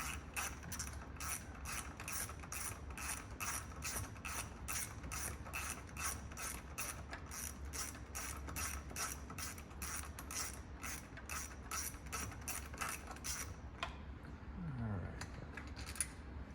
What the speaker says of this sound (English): I'm going to use a 10mm 1/4" drive with a deep socket there.